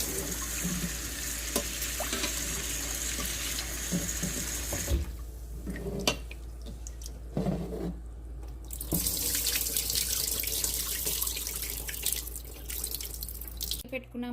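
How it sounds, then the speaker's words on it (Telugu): Toor dal (pigeon pea lentils) is rinsed under a running kitchen tap, a close, steady hiss of flowing water that briefly quiets and breaks into splashes before running fully again. "ఇది వాష్ చేసుకొని 2 టైమ్స్ వాటర్ యాడ్ చేసుకుందాం."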